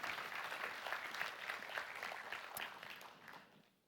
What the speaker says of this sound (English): Please an applause again